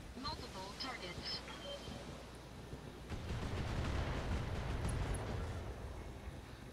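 Mech weapons firing at targets in the BattleTech video game: a dense, rumbling barrage of blasts that swells louder and heavier midway and keeps pounding to the end, with a faint voice in the mix.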